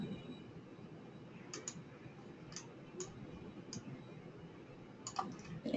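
A computer mouse clicks during graphic design editing: sparse, crisp single and double clicks spaced irregularly over a soft, quiet room hiss, close and isolated with no talk.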